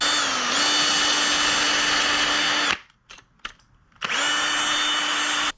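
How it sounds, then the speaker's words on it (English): A power grinder works a rear-end part on a Datsun 240Z, whining loudly and steadily up close, stopping for about a second of quiet handling noises, then spinning back up to full speed. "we're just going to grind this down, and we are going to prep this for paint as well"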